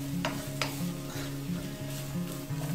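Carrots and cabbage sauté in oil in a pan for fried rice, a steady sizzle with occasional stirring scrapes over a constant low humming drone.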